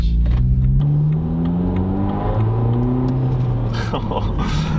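Car engine pulling away and accelerating with a steady rising rumble and whir, heard from inside the cabin under a friend's driving, with people talking over the engine throughout.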